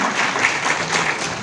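Audience at a world non-violence summit in Mumbai claps to greet Karnataka governor Thawarchand Gehlot, a brief burst of steady applause in a large hall.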